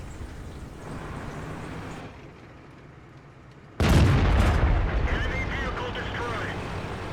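A tank cannon fires at a Panther in World of Tanks, one loud booming shot that bursts in abruptly after a stretch of quieter engine rumble and rings out with lingering debris and rattle.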